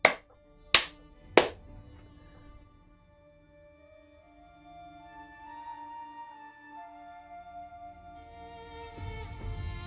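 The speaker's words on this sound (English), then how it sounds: "I'm just gonna clap." Three sharp hand claps in a quiet room, the first right at the start and two more close together within the next second and a half, each crisp and near, followed by low background sound and faint tonal music.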